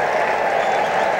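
Large Yankee Stadium crowd of about 41,000 applauding steadily on a 4th of July afternoon during a 1983 Red Sox–Yankees game, a dense, continuous wash of clapping with no voices on top.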